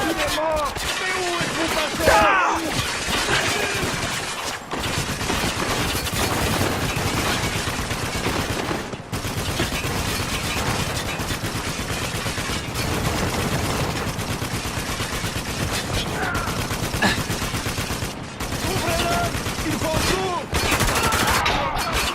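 Sustained machine gun fire in a combat video game, dense rapid bursts hammering almost without pause, loud and close, with shouted voices mixed in.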